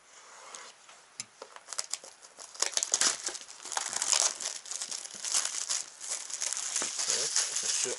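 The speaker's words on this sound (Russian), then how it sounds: "Давайте вскроем нашу коробочку." Plastic packaging crinkles and rustles close up as a cardboard box holding an InfiRay T2 Pro thermal monocular is opened, the crackling growing denser and more continuous toward the end.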